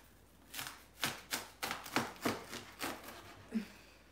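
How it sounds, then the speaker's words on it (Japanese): Kitchen knife chopping food on a board at home: about nine crisp, evenly spaced chops, moderately close and alone, with a slight pause before the final cut. "いつも使ってる包丁と。"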